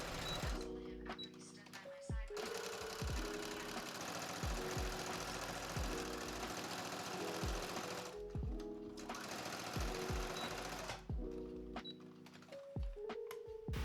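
A sewing machine stitching satin dress pieces together, running in bursts with a rapid rhythmic needle clatter, starting and stopping several times with brief pauses between runs.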